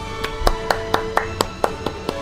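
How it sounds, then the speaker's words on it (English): Steady, evenly spaced claps, about nine of them in quick succession, sounding like a single close pair of hands applauding with no voices. "that's applause all around"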